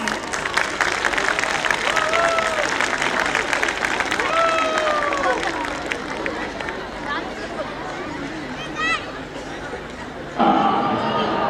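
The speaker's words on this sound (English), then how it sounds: "Round of applause, guys." Audience applause and cheering from a crowd at a school annual day, greeting a grade 7 fusion dance act, steady and fairly loud with crowd chatter and music tones mixed in, rising again near the end.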